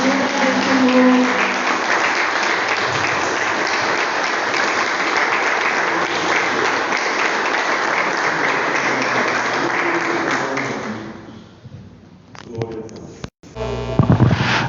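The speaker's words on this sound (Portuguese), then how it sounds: "As palmas agora no nome do Senhor Jesus" A church congregation claps together at a worship service in Avaré, a loud, dense, steady wall of applause lasting about ten seconds before fading out, followed by a few scattered sharp sounds and voices.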